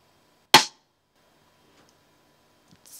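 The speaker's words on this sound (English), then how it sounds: "Then we select a snare." Snare drum one-shot sample selected in NI Maschine, a single sharp crack with quick decay, played alone, followed by a faint click and a soft noisy burst near the end.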